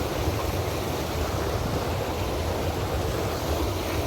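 Water rushing through a channel to turn the mill that grinds tahini, a dense, steady roar that stays loud and constant throughout with no talking.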